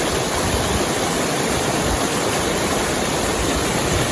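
Water gushes at a mountain spring source, a loud, dense, unbroken rushing roar heard up close without any voices.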